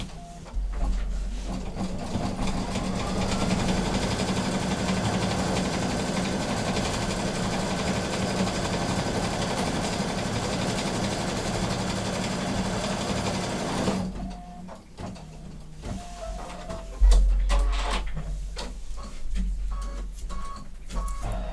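An embroidery machine stitching a placement line in white thread, a fast steady mechanical whir running without pause for about fourteen seconds, then stopping and giving way to intermittent clicks, thumps and beeps.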